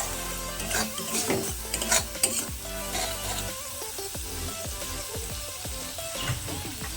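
Spice paste for egg curry stir-fries in a pan, a continuous sizzle overlaid with busy, repeated scraping and clattering of a spoon against the pan, loudest early on then settling into steadier stirring.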